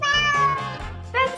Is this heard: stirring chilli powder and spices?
no